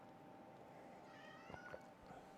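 A faint meow from a house cat wanting to be let out, a couple of brief drawn-out calls heard over a steady low hum indoors.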